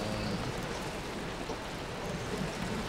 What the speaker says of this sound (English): the rain makes my PC lag so bad